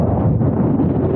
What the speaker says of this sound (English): You hear how windy that is?